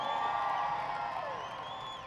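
A large crowd at a political speaking event screams and cheers continuously, a dense sustained roar of voices with rising whoops.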